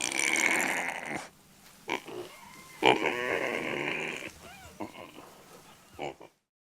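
Pigs at a petting zoo grunting and snuffling at close range in short irregular bursts, with a few squeaky calls between quieter gaps.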